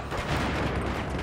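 Gunfire from a weapon in Battlefield 4 on the Metro map in hardcore mode, a dense run of rapid booming shots that keeps a fairly steady, loud pace with no voices.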